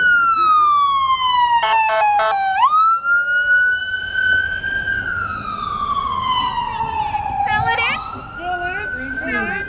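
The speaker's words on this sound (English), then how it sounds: "If the ambulance wants to get through, it can come through." A loud, close ambulance siren wails in long rising and falling sweeps as it passes, with a brief horn-like burst, over road noise and a voice.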